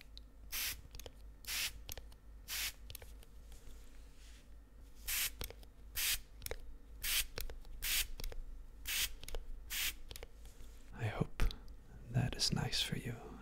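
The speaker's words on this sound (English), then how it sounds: "I just gently spray your hair" Repeated short hissing sprays from a plastic trigger bottle spraying hair, evenly spaced, close and soft, with whispered speech and rustling near the end.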